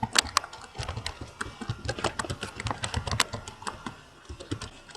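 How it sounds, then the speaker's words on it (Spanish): Keys tap at a brisk, irregular rhythm on a computer keyboard picked up by an open microphone during an online class, fairly close and clear with no talk over it. "Alguien tiene abierto el micro y se oye que está tecleando"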